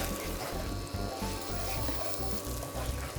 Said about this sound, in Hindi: अब इसको भूनेंगे कब तक, जब तक कि अदरक लहसुन पेस्ट का कच्चापन ना मर जाए।